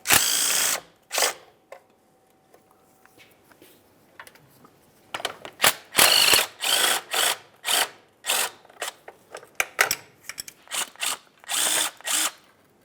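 A power ratchet removes the oil pan mounting bolts on a 2005-2010 Dodge Dakota with a 4.7L V8. It runs in a rapid series of short, loud whirring bursts broken by brief pauses, after a quieter stretch of faint clicks.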